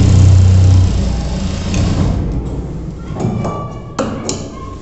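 A sewing machine stitching a trouser seam, a loud, steady motor whir that runs close and continuous at first, then eases into lighter running with a few sharp knocks near the end.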